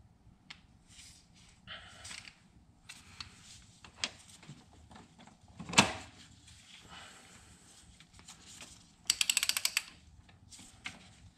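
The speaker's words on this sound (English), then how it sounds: "And now it gets torqued to 85 Newton meters" Torque wrench tightening a bolt to 85 Nm on a 2014 VW Touareg during oil cooler replacement, scattered ratcheting clicks and metallic handling noises, ending in a quick burst of rapid ratchet ticks.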